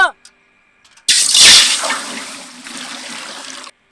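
Running water gushes loudly for a few seconds onto toor dal for a large batch of vegetable sambar, a steady splashing pour that starts abruptly and then stops.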